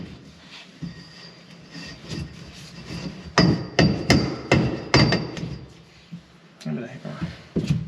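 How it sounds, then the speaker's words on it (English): Sharp metal hammer strikes on a steel part of a 4x Innovations cage being fitted to a second-generation Toyota, a run of loud, closely spaced blows with workshop background and people talking nearby. "Hand me the hammer."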